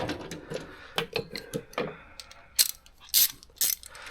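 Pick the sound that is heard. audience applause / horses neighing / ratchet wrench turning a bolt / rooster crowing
ratchet wrench turning a bolt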